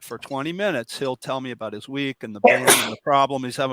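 A man's sneeze bursts out once, loud and close, in the middle of continuous conversational speech, with talking carrying on right before and after it.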